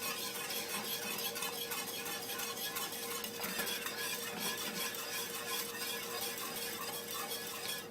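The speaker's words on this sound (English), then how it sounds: "you whisk it until the sugar is completely dissolved" Organic sugar being whisked into dairy-free milk in a pot, a steady, busy scraping and swishing that runs continuously and fairly loud throughout, with no voices.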